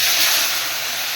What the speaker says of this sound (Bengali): তেল গরম হয়ে গেছে, প্রথমে আমি দিয়ে দিচ্ছি পেঁয়াজ আর রসুন পেস্ট